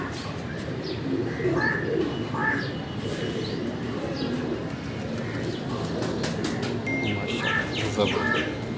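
Pigeons of the Karachi breed, blue birds with strong feet, cooing and calling from a rooftop loft, a steady low murmur of repeated coos with occasional brighter chirps over a constant background hum.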